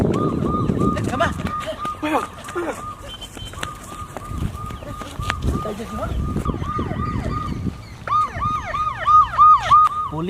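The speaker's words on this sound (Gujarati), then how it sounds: "પોલીસની ગાડી છે નજીક" A police car siren wails nearby in repeated rising and falling sweeps that grow louder toward the end, with people talking over and between the cries.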